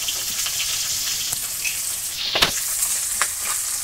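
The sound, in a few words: cumin seeds sizzling as added to hot oil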